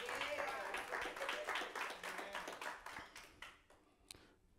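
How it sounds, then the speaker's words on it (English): A church congregation clapping hands in praise during a service, a burst of brisk overlapping claps that gradually thins out and fades, with a voice speaking over it. "Give the Lord a hand clap of praise."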